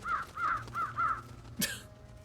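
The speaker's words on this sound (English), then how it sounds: "Attack of the crows." Crows in the video game Trüberbrook give four quick, evenly spaced caws, fairly close, followed by a short sharp burst of game noise.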